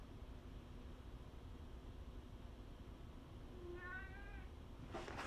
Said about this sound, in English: So that's my cat in the background.